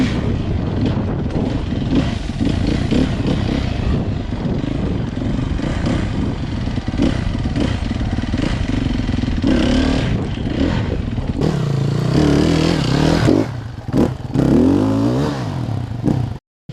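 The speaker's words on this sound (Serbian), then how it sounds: "to je enduro motor" An enduro motorcycle engine runs steadily close by, roaring and revving with rough clatter as the bike works slowly over a log obstacle, then cuts out abruptly at the very end.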